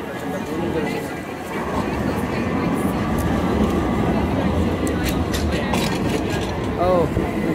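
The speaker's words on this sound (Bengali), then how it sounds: "এই যে একটা ট্রাম হইতেছে, আমি এটা দিয়ে আসছি কিছুক্ষণ আগে।" A tram rolls along a street in Turkey with a low, continuous rumble and rattle of wheels on rails under city noise, while a voice speaks briefly nearby.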